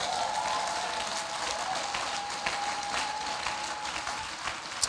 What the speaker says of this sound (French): Hey, est-ce que tu peux acclamer Dieu d'abord?